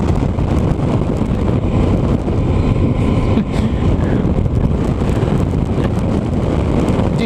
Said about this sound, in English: Fuck off, wind.